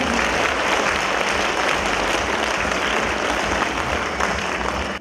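Dense, steady clapping from a ceremony audience honouring volunteers on Ukraine's Armed Forces Day in Zviahel, loud and continuous before dropping off sharply at the very end.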